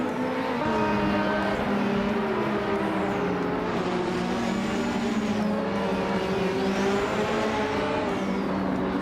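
Race cars roaring around a track in a racing video game, one of them a Ryla RC1: engines whine and rise in pitch as they accelerate and pass, forming a continuous loud drone of several cars, with no talking.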